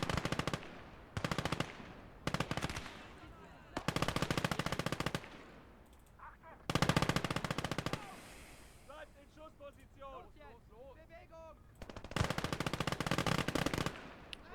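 Machine gun fire rattles in long rapid bursts in the World War II game Call To Arms: Gates Of Hell, loud and close, broken by short gaps where someone speaks amid the battle.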